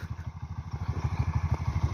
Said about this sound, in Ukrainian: Хай прогрівається